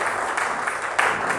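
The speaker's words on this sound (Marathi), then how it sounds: "या आपण एकदा जोरदार टाळ्या वाजवूयात परमेश्वरासाठी" Church congregation applauding for God during a sermon: a steady wash of many hands clapping together, fairly even throughout with a slight swell near the end.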